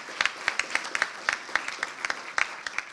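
Applause at a children's summit gathering, a sparse room of individual claps in an uneven, scattered rhythm, fairly close and moderate in level, with no voices over it.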